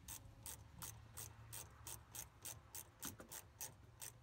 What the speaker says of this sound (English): Jared turning the wrenches, and get that clamp tight there.